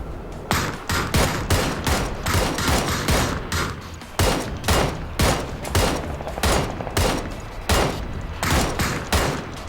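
Rapid bursts of gunfire crackle through a video game shooter, shots firing in repeated volleys nearly continuously, loud and close, with no talk over them.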